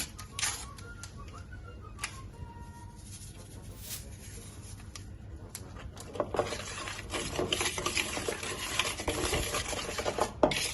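Eggs and sugar whisked in a bowl for an apple-pear cake, a rapid scraping, clicking whisk rhythm that grows steadier and louder toward the end, close and alone with no talking.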